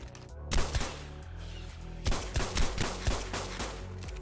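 Rapid gunfire rings out in the video game Ark Survival Evolved, bursts of sharp shots over a constant low in-game hum, loud and close.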